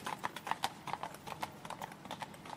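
Horse hooves clip-clop in a quick, uneven rhythm of close, sharp strikes, a horse cantering along a level stretch of road with no voices.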